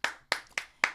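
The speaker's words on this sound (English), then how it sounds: "let's clap for comedian Fig" Hands clapping for a comedian on a morning radio show, four sharp, evenly spaced claps close to the mic within about a second, with no talk.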